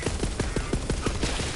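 Rapid SMG gunfire in Borderlands 3, a fast regular burst of about nine sharp shots at even spacing, loud and close with game ambience behind.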